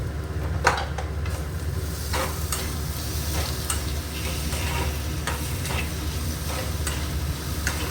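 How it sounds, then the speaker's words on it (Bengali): Chopped ginger and garlic fry in oil in a pan for an aloo paratha filling, giving a steady broadband sizzle with occasional sharper crackles and stirring scrapes, with no talking. "রসুনটা ভাজা হয়ে গেছে, এবার আদা কুচিটা দিয়ে দিচ্ছি।"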